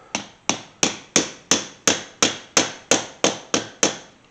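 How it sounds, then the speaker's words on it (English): Flat tip body hammer tapping a dent out of the soft sheet-metal body line of a 1981 Chevy C10 short-bed truck, about a dozen sharp, evenly spaced metallic taps with short ringing decays, close and clear. "I think I can just take my flat tip body hammer here and go right on that body line"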